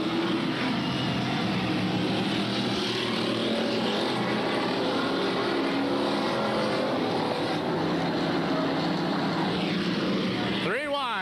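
Street stock race cars roar as they accelerate on a dirt oval track at a 1993 race, a loud continuous engine din that fills the whole stretch, with a rising whine near the end.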